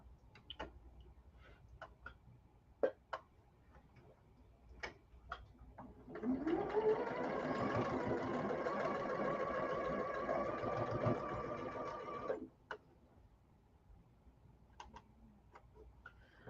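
A sewing machine with a stitch leader fitted stitches a quilt block. It runs in a steady, moderately loud whir for about six seconds in the middle, with faint ticks and clicks before and after.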